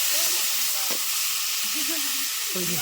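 Tomatoes and tamarind frying in a pan give a steady close sizzle throughout, with brief stirring scrapes and a few tonal clinks over the hiss.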